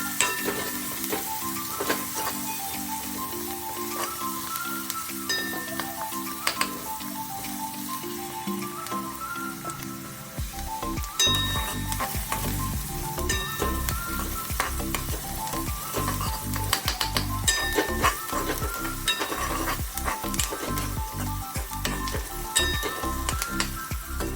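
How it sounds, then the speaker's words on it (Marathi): Onion sizzling and frying in a pan as it is stirred, a continuous crackling hiss with repeated scraping stir sounds, loud and close with no talking. "आता आपण मस्त त्या कांद्याला गुलाबी होईपर्यंत परतू"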